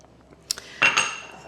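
Spoon clinking against a bowl while onion powder, garlic powder and salt are mixed into potato salad, a couple of quick taps followed by a louder metallic scrape that rings briefly and fades.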